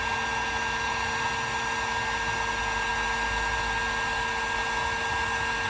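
A heat tool runs at a steady, continuous whirring hiss as it warms a plastic action figure to loosen its arms, a constant airflow drone with no breaks and no talking.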